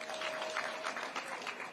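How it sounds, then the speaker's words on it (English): Faint, soft clapping from a group of learners on a visit to Nairobi National Park, a steady patter of hands at a distance, low in level with a faint tone running underneath. "Let's clap for her."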